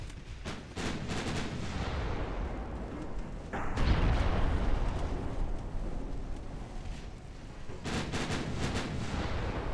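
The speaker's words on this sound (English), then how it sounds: "So hitting those main gun turrets, that should result in some explosions." Naval gunfire from super battleships in a video game booms in repeated bursts, with a deep explosive rumble swelling in the middle as main gun turrets are hit, loud and continuous with no talking.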